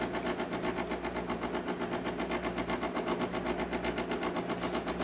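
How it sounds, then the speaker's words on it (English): DeLonghi Magnifica super automatic espresso machine running its rinse cycle after a full tune-up: a steady, rapid mechanical pulsing hum with a buzzing, fast-ticking rhythm, close and continuous. "It's going through its rinse cycle."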